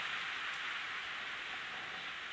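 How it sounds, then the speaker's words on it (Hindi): Steady rain falls, a dense unbroken hiss of drops that holds at the same level from start to end with no other sounds. "देखिए बारिश होने लगी, हो सकता है थोड़ा सा आवाज जाती हो बारिश की"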